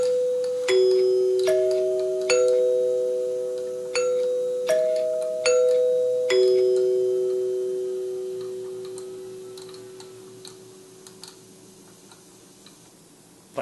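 A NuTone 8-note door chime on a testing jig rings out a sequence of struck tones, each ringing and decaying, with a faint motor ticking continuing underneath once the notes fade.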